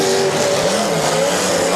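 At a demolition derby, a car engine revs hard and loud, its pitch rising and falling in sustained wails under crowd and announcer noise.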